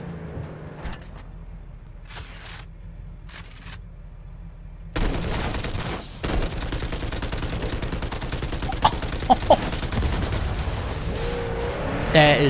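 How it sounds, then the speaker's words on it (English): Car-mounted machine guns fire in Cyberpunk 2077, with short bursts of gunfire and a dense, loud stretch of firing mixed with engine and driving noise while a voice talks over it. "this car comes equipped with machine guns"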